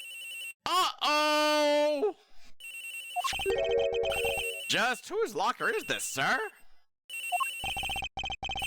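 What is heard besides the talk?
victim's cell phone ringing in a locker, video game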